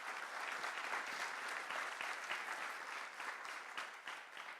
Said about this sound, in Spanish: quiero que le regalen por favor un aplauso a nuestros panelistas